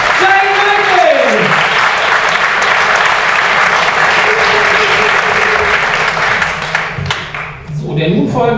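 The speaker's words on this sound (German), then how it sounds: "einen donnernden Applaus für Jane Michael" Loud, sustained applause from a poetry slam audience at a bar follows a poet's scoring, a thick wash of clapping that rolls on for several seconds while a voice speaks over the start and cheers rise near the end.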